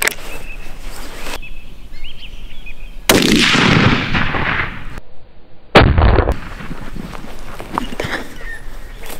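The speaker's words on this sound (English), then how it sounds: "So I'm going to shoot without the brake on, show you guys the recoil." Rifle fired outdoors near a lake without a muzzle brake: two loud, close gunshots a few seconds apart, each with a long booming echo rolling away, and faint birdsong in the background.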